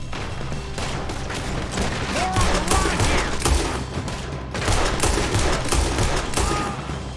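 A shootout in the video game Red Dead Redemption 2 brings dense, continuous gunfire, with rapid overlapping shots and heavier booms that keep up loudly throughout.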